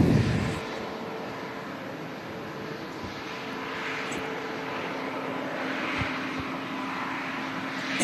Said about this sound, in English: the next aircraft in is the Lufthansa A320 coming in from Munich